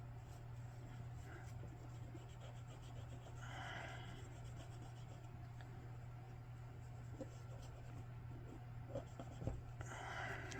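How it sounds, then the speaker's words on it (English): Hardened grease being scraped off a Zeiss Ikon Kolibri camera, a faint, close rasping and rubbing that continues steadily over a low steady hum. "some hardened grease I might just have to clean off by scraping it off"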